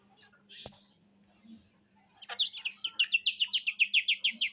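Young quails, 32 days old, in a small farm pen give a few scattered chirps, then a rapid run of bright, evenly spaced calls close by, with a low steady hum behind.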